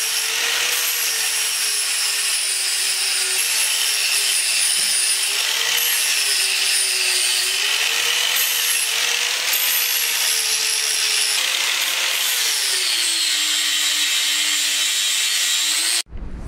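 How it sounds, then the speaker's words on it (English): Flap sander grinding down welds on an old metal bed frame, a steady high whine that runs continuously for about sixteen seconds with slight pitch wobbles as pressure shifts, close and loud, then stops abruptly. "we'll clean up some of those welds just with a flap sander there"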